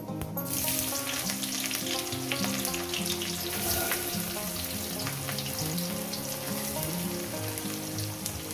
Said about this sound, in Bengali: তেলটা আমার গরম হয়ে গেছে দিয়ে দেবো এখানে পাঁচ ফোড়ন পাঁচ ফোড়নটা ফুটে যাবে দিয়ে দেবো এখানে পেঁয়াজ কুচো